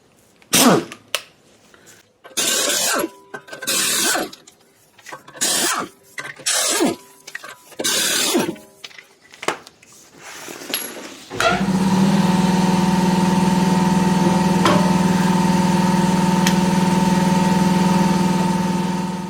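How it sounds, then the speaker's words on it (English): An impact wrench with a 3/4 socket removes the rear wheel lug nuts on a Ford Escape during a brake pad job, firing in repeated short bursts before a steady mechanical hum takes over. "Now you can use your factory lug wrench, or in my case I'm going to use an impact"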